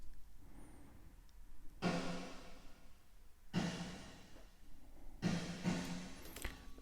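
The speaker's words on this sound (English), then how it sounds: "the last thing I've got here is a dedicated snare reverb channel" Isolated reverb from a dedicated snare drum channel in a metal mix: three soft, washy bursts of decaying reverb tail, evenly spaced, faint and airy with no dry hit behind them.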